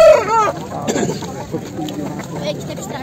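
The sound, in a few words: Dakan breed rooster and chickens at a market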